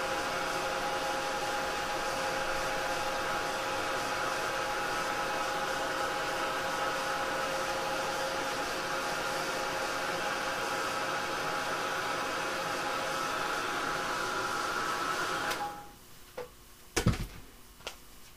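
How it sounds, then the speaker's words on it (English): A heat gun blowing hot air to dry blended ink on paper, a loud steady whooshing roar for about fifteen seconds that then cuts off, followed by a few soft clicks and handling knocks. "I'm going to go ahead and use my heat gun to get it all dry"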